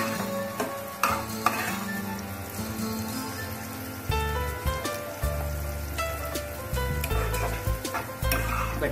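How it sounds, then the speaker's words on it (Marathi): Diced potatoes fry in a pan for sabudana khichdi, a steady close sizzle with occasional stirring clicks, running beneath prominent background music throughout. "झाकण ठेवून फ्राय करूया।"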